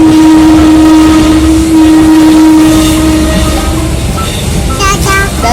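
A train passes close by with a loud, rumbling roar and a long sustained whistle tone for the first few seconds. Brief squealing tones follow as it goes by.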